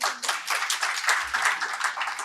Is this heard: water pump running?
no